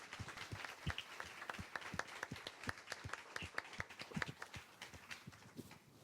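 A small audience at a talk on equality and diversity applauds with scattered, distinct claps, quiet and somewhat distant, keeping an irregular patter throughout.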